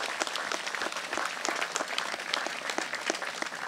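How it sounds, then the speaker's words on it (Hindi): Audience clapping at a church prayer service to thank the Lord, a dense, steady patter of many hands applauding together, loud and continuous from start to finish. "ताली बजाते हुए प्रभु का धन्यवाद करिए"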